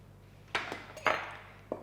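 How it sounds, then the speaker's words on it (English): A knife clinks against a bowl while mixing dough ingredients, three sharp metallic taps spaced apart over a quiet background. "Mix it with a knife because that mixes it cleanly"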